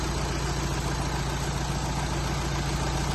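A VW Amarok engine idling just after an oil service, a steady, close, loud rumbling drone with an even pulse and no change in speed, no talk over it.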